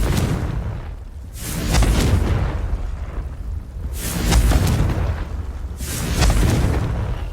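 A Confringo blasting spell from Hogwarts Legacy makes three loud, booming magical bursts about two seconds apart, each swelling into a rumbling, rushing surge.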